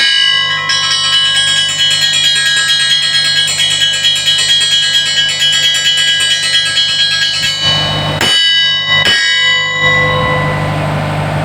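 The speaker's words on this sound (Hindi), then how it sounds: "ये इंटीमेशन बेल एक्चुअल तो होती स्टाफ के लिए है कि वो प्रिपेयर हो जाए" A railway station intimation bell at Ranipur, rung by hand to warn staff of the approaching 14 Down Awam Express, clangs in a rapid, steady metallic ringing that sounds close and loud and continues for about eight seconds before a few separate final strikes.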